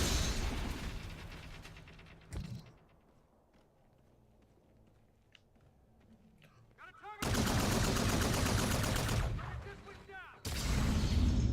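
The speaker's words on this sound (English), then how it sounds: "Someone just threw a grenade. Heard it." A grenade blast in an online team shooter lands as a sudden loud burst of noise, then dense crackling gunfire and impacts after a quieter stretch, close and harsh.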